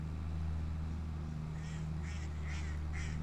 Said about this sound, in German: die Enten hört man